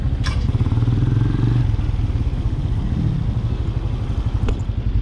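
Benelli Imperiale 400 motorcycle, a 400cc single, rumbling steadily on a test ride with a low, pulsing engine note heard up close and a couple of short clicks.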